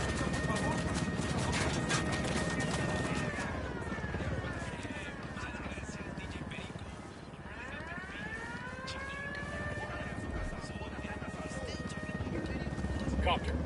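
Helicopter in the game Ghost Recon Wildlands, a steady rotor drone with shifting whine passing overhead, continuous and fairly loud alongside game noise and voices talking.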